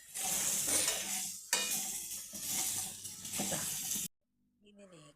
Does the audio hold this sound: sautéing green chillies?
yes